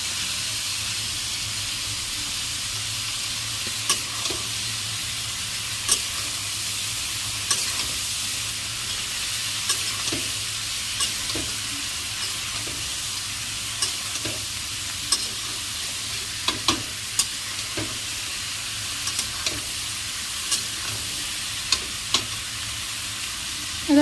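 Onions with garlic and ginger paste fry in a pan for a duck curry, a steady close sizzle and hiss broken by scattered clicks and scrapes of stirring, with no voices.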